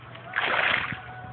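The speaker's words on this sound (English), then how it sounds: "Splash them." Water splashes in a backyard pool as someone slaps at bugs on the surface, one short close splatter lasting under a second against quiet surroundings.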